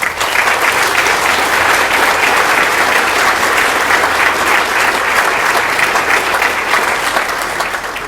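A high school awards ceremony audience in a hall gives a sustained round of applause for sponsoring partners, dense and even clapping that fades slightly at the end, with no talk over it.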